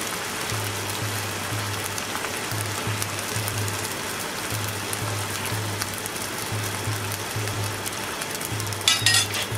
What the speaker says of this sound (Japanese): だし汁をねこう入れますね。